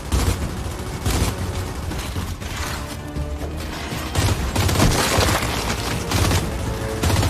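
Lancer rifle fire in a Gears of War–style video game rattles out as dense, continuous bursts with layered impacts and game effects. It is loud and close, and nobody talks over it.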